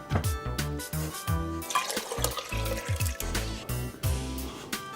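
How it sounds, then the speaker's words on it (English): Water pours and glugs into a blender in short bursts, with splashing and gurgling sounds close by, no talking. "Add 1 cup of water to the blender."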